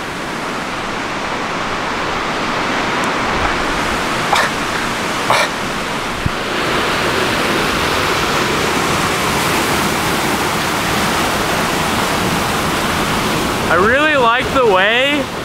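A waterfall pours and funnels over a rock edge outdoors in the Pacific Northwest, making a loud, steady broadband roar up close, with a few brief knocks and a short vocal sound near the end.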